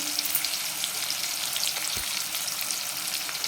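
Cashews fry in previously used oil alongside chillies and onion, giving a steady, close, even sizzle with soft crackle, and a brief low knock near the middle.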